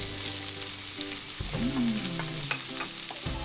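Food frying and sizzling in a pan while being stirred during meal cooking, a steady crackle with scraping stir strokes and a brief clatter, close and moderately loud, with no talking.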